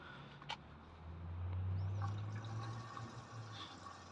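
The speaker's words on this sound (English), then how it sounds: "Then the water fills in through that section." Water fills a Hoover H-Wash 300 Lite 10kg front-loading washing machine through its detergent tray, a steady low rushing hum with a faint click near the start, heard close and fairly quiet.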